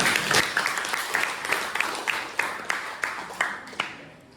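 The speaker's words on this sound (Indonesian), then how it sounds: "terima kasih, tepuk tangan dulu" A classroom of students applauds their teacher in a sparse, loose clapping with distinct sharp claps recurring roughly every half second, fairly soft in a reverberant room, then thinning out toward the end.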